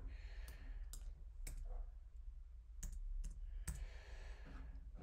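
Typing on a computer keyboard produces sparse, faint key clicks in irregular clusters over a quiet room background.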